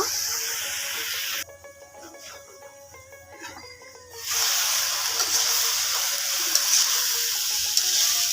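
Bathua greens cooking in a pan give off a steady hiss and sizzle, which is briefly muffled in the middle before returning at full strength.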